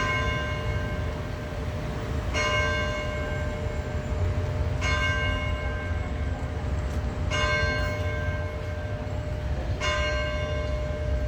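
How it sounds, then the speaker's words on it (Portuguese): The church bell of São João Batista matriz tolls the morning hour, four resonant strikes spaced about two and a half seconds apart, each ringing out over steady background noise with no talking. "Agora nós vamos ouvir as 9 badaladas da manhã."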